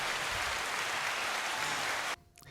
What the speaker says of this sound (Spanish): un aplauso bien merecido.